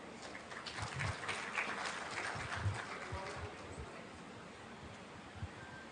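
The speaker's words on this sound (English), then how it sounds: "a huge round of applause once again towards the second session for everybody present on the stage" At an MSME business conference, the hall applauds a panel on stage with a steady, distant-sounding patter of clapping that stays soft and even throughout.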